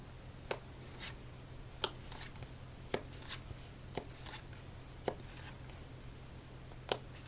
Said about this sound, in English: Felt like a short shuffle for us, but let's mix it up just a little bit.